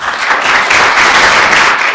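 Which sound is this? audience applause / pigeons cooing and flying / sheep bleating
audience applause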